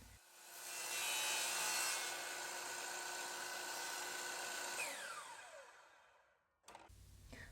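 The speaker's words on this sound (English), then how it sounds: "we duct taped the handle to a piece of wood so we could use it in our chop saw to make the angled cut" Steady sawing rasp of a chop saw making an angled cut through walnut wood, running loud for several seconds before winding down, then a brief clatter at the end.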